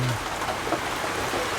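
Rain falls steadily outdoors as an even, unbroken hiss that holds at the same level throughout, with no voices.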